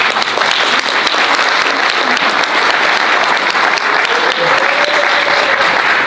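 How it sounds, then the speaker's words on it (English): Loud, dense round of applause from a town hall audience at a meeting about the Bella Vista Trafalgar fire, continuous clapping with faint voices mixed in. "let's give Chris a big round of applause"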